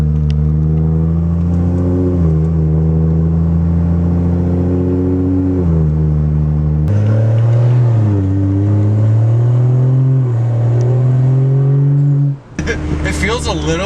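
BMW F30 fitted with an upgraded diverter valve, accelerating through the gears into boost, the engine note climbing and dropping with each shift, loud and close inside the cabin, with people talking over it.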